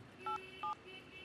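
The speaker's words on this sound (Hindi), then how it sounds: "चल एमडी को फोन लगा।" Two short dual-tone telephone keypad beeps, evenly spaced, as a phone number is dialed, alone over a faint background hiss with no talk.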